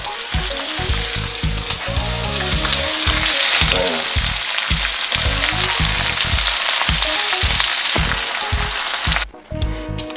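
Cut cabbage and onion fry in a wok with a loud, continuous sizzle, punctuated by repeated stirring and scraping that pulses in uneven rhythm before a brief drop near the end.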